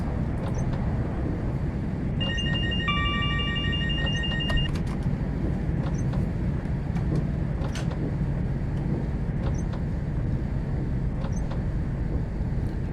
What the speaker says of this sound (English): when I trigger the pass com alarm,